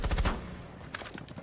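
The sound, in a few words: gunshots in a video game esports match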